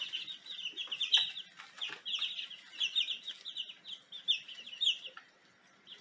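Chickens and chicks cluck and peep in a backyard chicken yard, a busy overlapping chatter of short high calls, fairly close and moderately loud, fading near the end with no talking.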